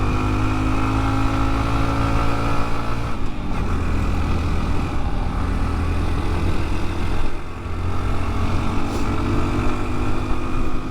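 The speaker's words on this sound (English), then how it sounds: "Even with the 13 tooth on, I have slowed down to about 25 miles an hour on this hill and had to downshift." A Honda Trail 125 motorcycle climbs a hill after a downshift, its engine droning steadily and loudly with a constant low hum and wind rush, briefly dipping twice as the load shifts.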